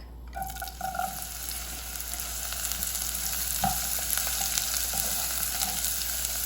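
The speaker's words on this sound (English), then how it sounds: "In a heated pot, add your oil, followed by the onion and garlic." Onion and garlic sizzle and fry steadily in hot oil in a heated pot, a continuous crackling hiss with occasional stirring clinks and no speech.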